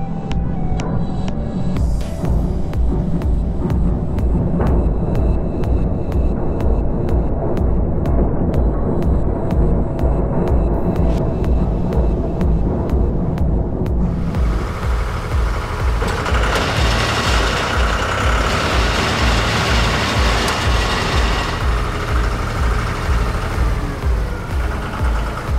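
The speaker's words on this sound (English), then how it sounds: "Let's go ahead and watch a PTO entanglement demonstration in action." Tractor PTO shaft spinning during an entanglement safety demonstration, a loud, steady throbbing mechanical drone that runs continuously and shifts in tone partway through.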